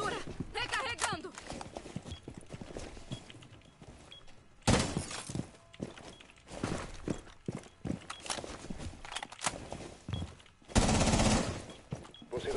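Gunfire in a Rainbow Six Siege match on PS4, sharp bursts of shots and impacts scattered over clattering footsteps and game noise, with a few loud bursts standing out, while a player talks over it.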